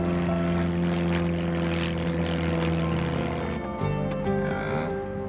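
A small propeller airplane in flight drones steadily with a strong low engine hum and rich harmonics. The pitch shifts slightly near the end, and the sound stays close and loud throughout.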